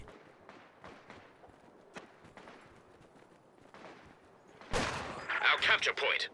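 Machine gun fire in Company of Heroes 2, sparse faint shots that swell into a louder, denser burst of rattling fire near the end, with a commentator talking throughout.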